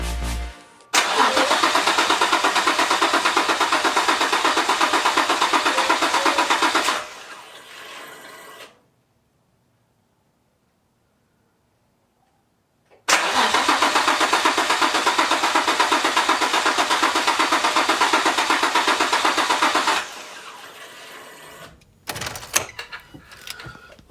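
A turbocharged Nissan 350Z cranks over in two long, loud, steady bursts of about six seconds each, separated by several seconds of silence, with brief clatter at the end.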